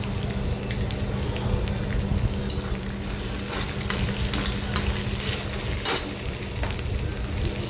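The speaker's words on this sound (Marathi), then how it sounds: "हिरवी मिरचीचा ठेचा आपण बनवलेला तोही तेलामध्ये टाकायचा आहे व्यवस्थित परतून घ्यायचा आहे" Green chili thecha and asafoetida sizzle steadily in hot oil, a dense continuous frying hiss with occasional stirring scrapes, close and fairly loud with no talk.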